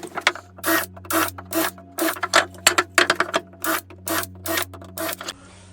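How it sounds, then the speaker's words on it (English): A drill pre-drills pilot holes in a 2x4 wood workbench frame, sounding in a rapid series of short, harsh bursts with brief pauses between them, over a steady low hum. "let me pre-drill some holes real quick"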